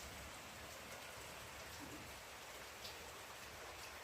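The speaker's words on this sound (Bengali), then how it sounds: "আজকে ভীষণ বৃষ্টি হচ্ছে" Heavy rain pours outside, a dense, constant hiss of drops hitting surfaces, even and unbroken, heard from indoors at a moderate distance with no voices.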